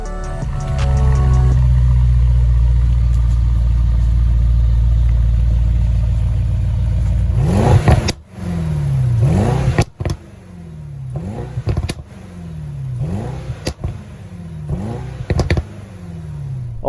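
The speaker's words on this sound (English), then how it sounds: "Velibov, thank you for your hard work in building this twin turbo V8 engine that makes 603 horsepower." A Mercedes AMG GLE 63S with a 603-horsepower twin-turbo V8 starts with a loud steady idle, then revs sharply several times in a row, each burst rising and falling close by.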